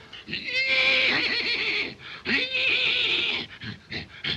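A person's voice imitates a horse neighing, two long whinnying calls with a shaky, wavering pitch, close and loud, followed by a few short breathy sounds.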